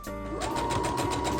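A sewing machine runs steadily, stitching a short straight line across the bottom of kilt skirt pleats to secure them. The motor whirs continuously and evenly at close range with no voices.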